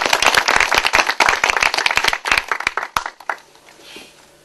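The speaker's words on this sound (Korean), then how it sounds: "박수로 맞아주시죠." A workshop audience bursts into lively, close, crisp hand clapping for about three seconds, then it quickly thins to a few scattered claps and fades into quiet.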